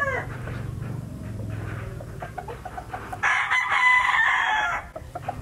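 A Boston stag gamefowl, a young claret white Boston gamecock, crows once loudly and close by, a long bright call in the second half after some low background murmuring and clucking.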